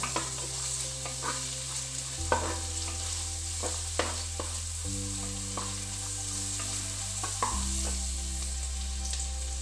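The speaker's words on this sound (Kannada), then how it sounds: "ಈರುಳ್ಳಿ ಶೋಕ್ ಫ್ರೈ ಆವಡು ಕೆಂಪು ಕಲರ್ ಆವಡು" Onions shallow-frying in oil until reddish, heard alongside squid in a pan, keep up a bright continuous sizzle close by, broken by regular spoon clicks against the pan and a steady low hum underneath.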